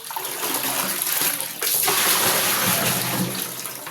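Water being fetched and poured into a bucket in a home kitchen, a close splashing pour that swells halfway through and runs on steadily, with no one talking.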